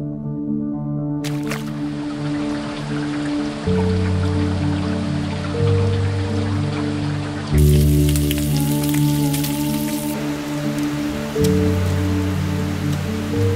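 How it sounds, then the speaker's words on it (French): Rain falling steadily outdoors on a summer day, a continuous textured patter that stays even throughout, mixed with a background of tonal music. "aujourd'hui il pleut, donc encore training à la maison"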